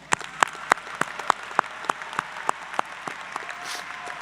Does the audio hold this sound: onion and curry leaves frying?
no